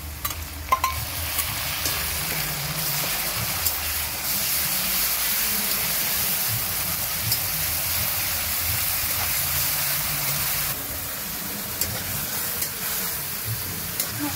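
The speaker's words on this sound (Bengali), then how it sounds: "মশলাটা ভালো করে ভাজবো।" Masala with garlic and onion paste frying in a pan for a shrimp and green jackfruit curry, a steady close sizzle and hiss with occasional stirring scrapes running throughout.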